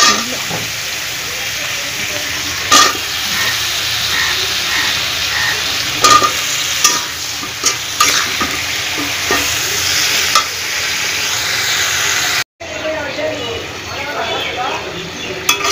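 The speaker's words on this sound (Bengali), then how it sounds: "সবজিটা আমার কষানো হয়ে গেছে" Vegetables for a hilsa fish curry sauté in a hot pan, a steady loud sizzle and hiss with occasional stirring scrapes, briefly cut off near the end before the frying resumes.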